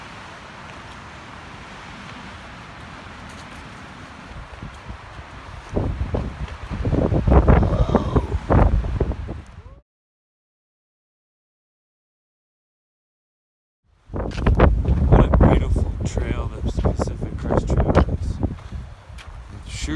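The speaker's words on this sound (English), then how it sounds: "It's windy." Wind on a Pacific Crest Trail hike buffets the microphone in rough, roaring gusts that cut out to silence for a few seconds and then return just as strong.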